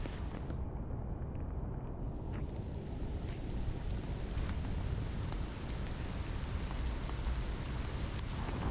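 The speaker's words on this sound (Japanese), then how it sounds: "結構な大雨でしっかり傘をさして歩いているんですが" Heavy rain pours steadily on an umbrella carried on a walk, a dense, unbroken hiss that stays loud and even throughout, with no voices.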